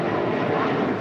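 Steady broadband roar of a Cessna Citation jet taking off from runway 25 right at LAX, a continuous loud engine rush holding level throughout without pauses.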